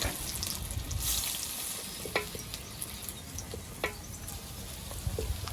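Potato bhaji fry in hot oil, a soft, steady sizzle with scattered pops and small crackles, fairly faint and without talk.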